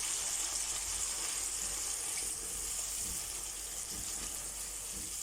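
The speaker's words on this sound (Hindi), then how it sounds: "अब इसके अंदर थोड़ा सा पानी ऐड करते हैं।" Water pours steadily into a pan of cooking chicken liver, giving a continuous hissing, bubbling wash that holds at even loudness for several seconds with no speech.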